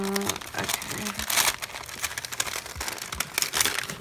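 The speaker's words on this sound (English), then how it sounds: "I'm gonna cut this open." Scissors cut open a pretty paper letter package, with dense crinkling and rustling of paper throughout, close and fairly loud, a few brief snips within; a person talks faintly at points.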